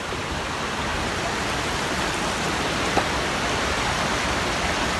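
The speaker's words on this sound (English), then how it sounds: "This stream runs through the town." A stream running through a small German town rushes in a steady, full hiss of flowing water, close and unbroken for several seconds.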